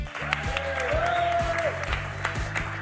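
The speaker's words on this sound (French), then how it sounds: "Voilà, on les applaudit" Studio audience applauding two game show contestants on the French word show Motus, a steady moderate round of clapping with a musical jingle playing over it.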